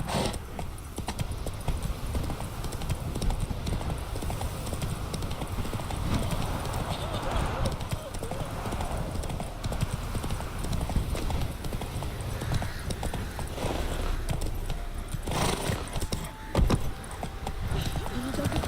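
Roach the horse galloping in The Witcher 3, a dense continuous clatter of hooves on ground with jingling tack, steady and close throughout, with voices speaking over it.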